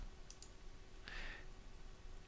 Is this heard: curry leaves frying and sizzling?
no